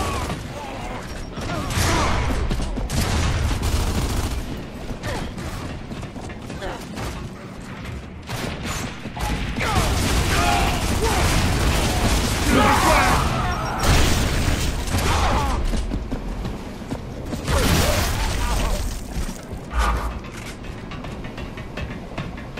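A frag grenade explodes during chaotic combat in the video game Gears of War Judgment. Dense bursts, booms and mechanical clatter layer continuously at close range, with loud peaks throughout.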